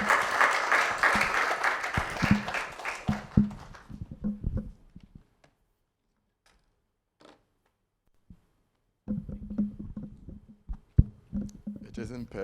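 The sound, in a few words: audience applause for keynote speaker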